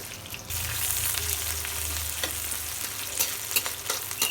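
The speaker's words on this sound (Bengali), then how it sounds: "পেঁয়াজ মরিচ ভাজা হয়ে গেছে, পেঁয়াজ রসুন" Onion and garlic frying in hot oil in a pan for a green banana ghonto, a close steady sizzle that starts abruptly and continues with light stirring clicks and crackles; no talk.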